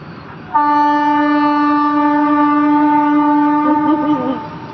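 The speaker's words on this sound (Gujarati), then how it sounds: "ટ્રેનનો પાવો વાગી ગયો" A loud train horn blares in one long, steady tone for about four seconds, close by, then fades out.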